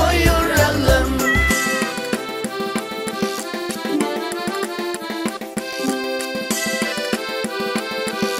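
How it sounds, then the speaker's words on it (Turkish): A cat meows within a bouncy Turkish children's song, the meows mixed in among the backing music and sung melody. "Kedi miyav miyav miyav dedi."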